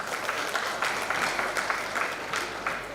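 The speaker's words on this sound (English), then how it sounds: "Please give a huge round of applause." Audience applause at an Indian Medical Association event in Karnataka: steady, fairly quiet clapping from a seated crowd, continuous for the whole stretch with small swells, no voices over it.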